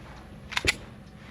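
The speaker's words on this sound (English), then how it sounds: "We're gonna do a series of shots. We're gonna do a couple single shots, couple double taps" A Sig P320 pistol fires two quick shots in close succession, sharp loud cracks at moderate distance on an outdoor range, with no talking.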